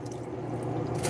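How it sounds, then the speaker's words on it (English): Water pours into a pot of soup being thinned on a home stove, a close, steady liquid splashing and filling that grows a little louder toward the end, with no talk. "so we're just gonna hit that with some water"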